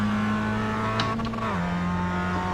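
Race car engine on a racing circuit, coming back onto the throttle in third gear, a steady close droning engine note that dips and shifts pitch partway through, with a brief rushing burst in the middle.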